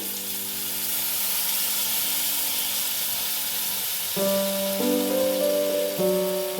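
Water strained from ground mustard and coriander paste is poured gently from above into a hot pan, setting off a loud, steady sizzle and hiss over a constant background hum.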